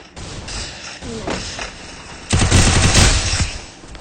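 An UMP submachine gun fires in a mobile shooter game, first in short scattered bursts, then a louder, denser rapid-fire burst before it tapers off.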